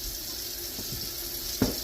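Cool tap water runs into and rinses out a glass jar, a soft steady hiss of running water with a brief louder splash near the end, close by and alone.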